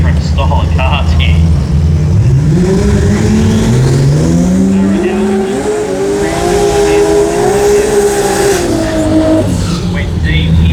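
A Mazda RX-7 drag car at a drag racing event, engine note climbing through a long high-pitched run with rising and falling pitch sweeps, loud and close, with a commentator talking over it.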